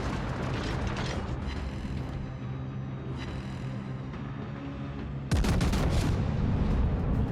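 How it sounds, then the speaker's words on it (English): A battleship's main guns fire a salvo in World of Warships, a sharp, loud burst breaking in over a steady mechanical drone of engine and ambient noise. "Dodge some of that salvo."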